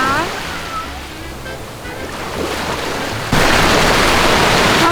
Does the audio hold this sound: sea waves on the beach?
yes